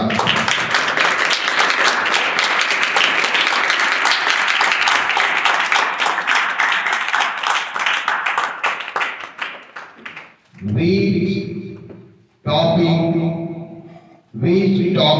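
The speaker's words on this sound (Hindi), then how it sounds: "इस गणित की सदन की शुरुआत करते हैं जोरदार तालियों के साथ" A classroom of students claps together at the start of a maths lesson, dense steady applause for about ten seconds that thins out, followed by a voice speaking.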